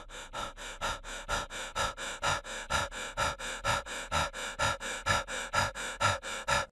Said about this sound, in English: Exhausted gasps fill the air